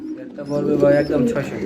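Native Kulla pigeons coo in low, throaty, sustained tones close by, overlapping with someone talking over them.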